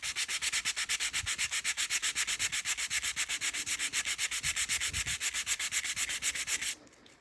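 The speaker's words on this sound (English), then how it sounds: "So then I'll switch to a harder Durablock." A hard Durablock sanding block rubs along a leather edge in quick, even back-and-forth strokes, dozens of rhythmic scrapes close to the ear before it stops abruptly near the end.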